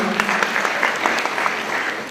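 Audience clapping for a person being introduced at a gathering, a short burst of brisk, distinct claps, fairly close and steady.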